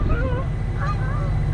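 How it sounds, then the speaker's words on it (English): A goose honks repeatedly during an attack at an outdoor picnic, several loud nasal calls rising over a steady low background rumble. "Goose attack! Goose strike!"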